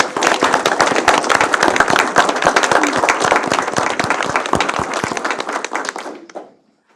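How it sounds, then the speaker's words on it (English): Applause at a Sherburne County board meeting for a nominated county provider: a dense round of clapping from the room, steady and fairly loud for about six seconds before it fades out quickly. "if we could give a round of applause to"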